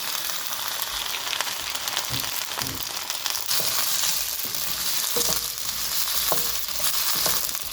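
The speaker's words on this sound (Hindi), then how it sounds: "मैं इसमें भिंडी ऐड कर दूंगी क्योंकि मुझे भिंडी को थोड़ा सा फ्राई करना है" Okra, freshly added, frying in a pan with cumin seeds, giving a steady dense crackling sizzle with scattered pops and occasional stirring scrapes, close and fairly loud, with no talking.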